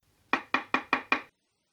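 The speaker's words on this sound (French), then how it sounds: "Le loup, cependant, se rendit tout droit à la maison de la grand-mère et frappa à la porte." Five firm knocks on a wooden cottage door, evenly spaced and close, as the wolf arrives at the grandmother's house in Little Red Riding Hood, followed by silence.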